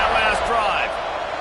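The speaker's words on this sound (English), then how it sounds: "this crowd is feeling themselves after that last drive" A stadium crowd at a football game sends up a loud, sustained roar of cheering voices that fills the whole stretch without a break.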